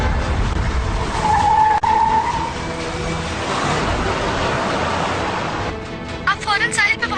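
A car takes a sharp turn and its tires skid in a long, loud squeal over engine noise, followed by a fainter screech near the end. Voices are heard around the skid.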